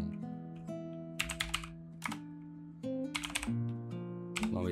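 Keys clatter on a computer keyboard in quick bursts of taps separated by short pauses, close and clear over a steady background hum, with no talking.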